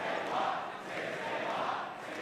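Large arena crowd at the IEM Sydney 2018 CS:GO grand final, a sustained, loud roar of many voices rising and falling slightly, resembling drawn-out booing.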